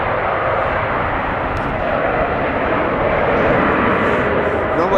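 A fixed-wing airliner arriving at Amsterdam Schiphol Airport on a windy day, its steady broad engine roar filling the whole stretch at a constant, fairly loud level with no break.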